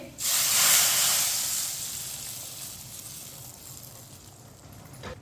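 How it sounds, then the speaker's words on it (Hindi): A loud burst of hot oil tempering sizzling as it's poured into a pot of cooked lentils, hissing strongly at first and then fading to a gentle crackle. "अब इसमें तड़का डालेंगे।"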